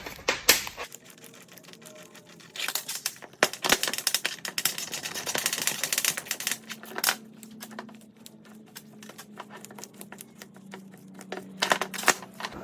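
Metallic clicks, rattles and scraping as long through-bolts are worked out of a Lucas starter motor from a Jaguar V-12, a close, irregular tinkering clatter with a brief steady whir partway through.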